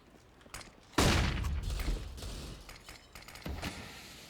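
Gunfire in CS:GO on the Train map during a competitive match: a loud burst of rapid shots erupts and rolls on with a sustained, dense crackle of shooting, with no talk over it.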